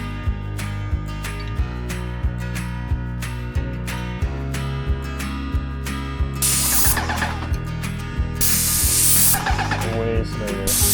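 Paint thinned by 12 to 15% sprayed onto van cabinets. Steady hissing bursts of spray come up over rhythmic background music, growing louder in the later seconds.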